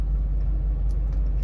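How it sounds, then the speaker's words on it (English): Inside a small, loud car, the engine rumbles as a heavy, steady low drone filling the cabin, with faint rustles on top and no voices. "And this car is so loud too."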